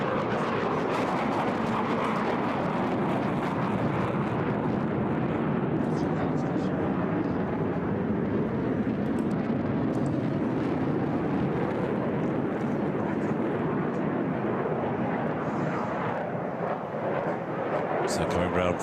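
A HAL Tejas fighter jet flying at an air show in Bahrain, its engine producing a loud, steady, broadband roar that stays continuous throughout, with an announcer speaking over it.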